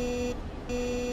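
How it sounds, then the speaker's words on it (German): A bus horn in the video game Transport Fever 2 that sounds like an alarm clock: a steady electronic beeping tone, briefly cut off and then resuming, fairly faint over a low background hum. "Ja, schön mit einer Hupe, klingt wieder wie ein Wecker."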